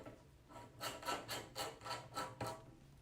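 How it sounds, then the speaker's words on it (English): Wheel locks on a four-layer 9.5-inch grow-out pen are tightened with a wrench, giving about seven evenly spaced soft ratcheting rasps, faint and close, with no voices. "then you can take a wrench to make them even tighter"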